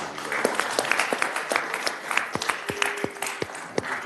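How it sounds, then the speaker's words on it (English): Audience applause at an award presentation for five-year recipients, a modest crowd clapping with distinct individual hand claps popping out near the listener, steady for several seconds. "we can give them a round of applause"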